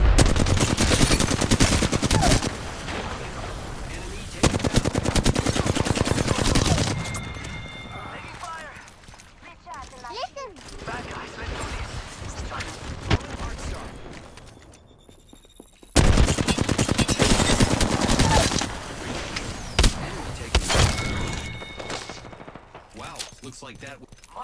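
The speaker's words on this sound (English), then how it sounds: "The enemies are shooting at me." Enemy gunfire in a shooter video game: dense, loud bursts of automatic fire in two long stretches, broken by quieter in-game effects and a brief lull in between, with voices at times.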